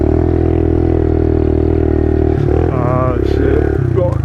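Pit bike motorcycle on a Hollywood Hills trail, its engine droning loud and close, then blipping and revving unevenly mid-ride with brief clatter, and a voice joining in over it.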